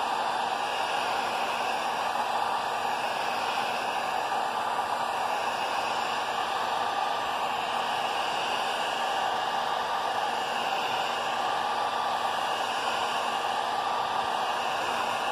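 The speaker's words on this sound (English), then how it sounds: "If you leave the heat gun on there too long," A heat gun blows a steady, loud broadband roar with a faint hum while heating a length of PVC pipe to soften it for bending, continuous and close with no talking.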